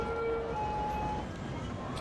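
Police car siren in the Cities Skylines city-building game, a steady electronic wail that drops in pitch partway through, heard over a low ambient city hum with no talk.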